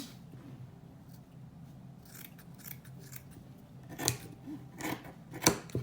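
Scissors snip through headscarf fabric while a ready-made turban is being shaped, giving a few sharp, close cuts that grow louder toward the end after quieter rustling, with no talking.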